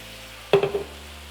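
Sauce hits a hot pan of shrimp and potatoes in a Mexican deviled shrimp dish, making a single sharp splash and sizzle that flares and fades within about a third of a second, close and fairly loud.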